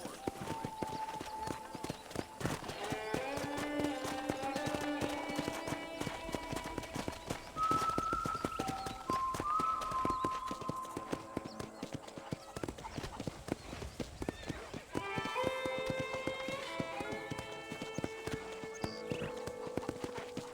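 Horse hooves clip-clop in a steady walking rhythm across a ranch in Red Dead Redemption, close and continuous for the whole stretch, layered with sustained tonal sounds.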